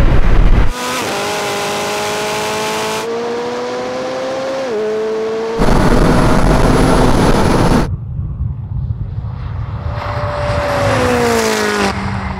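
Loud, high-revving engines of a McLaren and a modified Ferrari 488 Pista in a drag race, rising through the gears with pitch sweeps and shift breaks, roaring close by with no talk.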